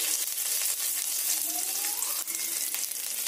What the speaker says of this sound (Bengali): কারি পাতাকে ডালের মধ্যে ফোড়ন দেব